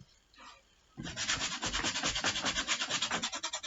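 A large flat brush scraping acrylic paint into a canvas, a rhythmic rasping scrub in quick repeated strokes that starts abruptly after a quiet moment, close and fairly loud.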